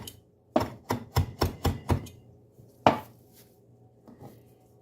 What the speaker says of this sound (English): So when you're chopping a large mound of herbs like this,